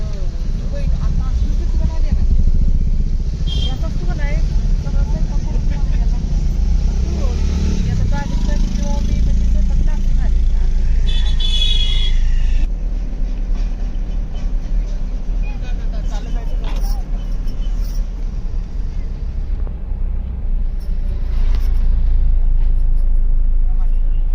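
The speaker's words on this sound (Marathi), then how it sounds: "डोंगरावर गाड्यांची किती गर्दी आहे" Crowded traffic on a hill road during a Jyotirlinga pilgrimage in Kolhapur: a continuous, loud rumble of buses, cars and motorcycles nearby, with voices talking over the engine noise throughout.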